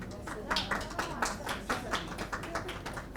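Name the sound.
audience clapping at workshop certificate ceremony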